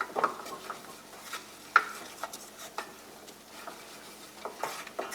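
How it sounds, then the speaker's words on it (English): A spoon stirs a flour-and-butter roux in a pan for mac and cheese, giving soft scraping strokes with a few sharper clicks against the pan over a faint, quiet sizzle. "create a flour paste, and I want to cook the flour, the raw flour flavor out of the roux."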